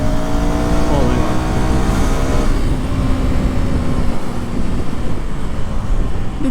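A Husqvarna Vitpilen 250 cafe-racer motorcycle revving under throttle, a loud, steady engine drone with rising and falling pitch as it accelerates, mixed with wind noise from riding.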